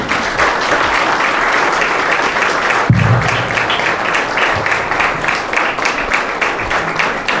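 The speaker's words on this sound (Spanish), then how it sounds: "Merecido aplauso para el poeta historiador Juan Colón." Sustained applause from an audience at a cultural forum, a dense wash of clapping that stays loud and even throughout.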